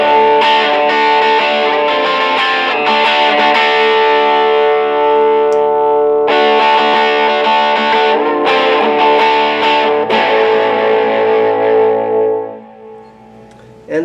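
Electric guitar with a stacked P90 pickup played through effects, a distorted, chorused tone with echo ringing out in sustained chords and short breaks, loud and close, fading away at the end.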